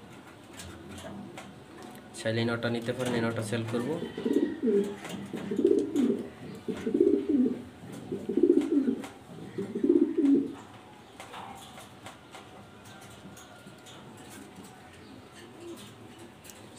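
A male Maltese pigeon coos in a low, repeated series of throaty calls close by, while someone talks over much of it.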